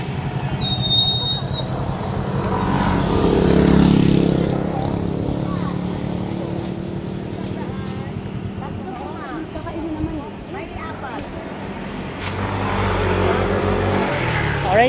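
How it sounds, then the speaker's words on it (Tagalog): A motorized tricycle, a motorcycle with a sidecar, passes on a street in Baler. Its engine rumble swells loudly and then fades, under steady nearby conversation. "Yung tricycle nila dito."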